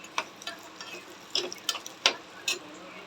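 Spices and poppy seeds tempering in hot ghee over low gas, giving faint, scattered crackles and pops in short irregular bursts against a quiet background.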